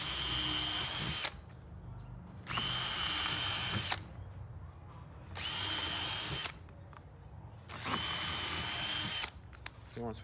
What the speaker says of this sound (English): So I'm just pre-drilling 1⅛ bit.